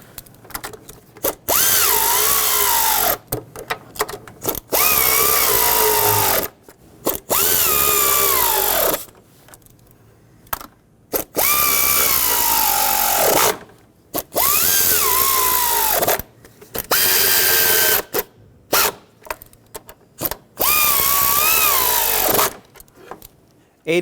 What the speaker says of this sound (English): I'm just going to snug them at first, get the bolts nice and close